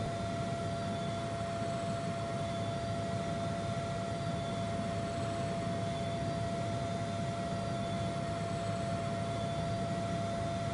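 A Lynx Mk7 helicopter engine spooling toward flight idle in Aerofly FS2, a steady turbine whine and hiss with a constant high tone, even and unbroken throughout.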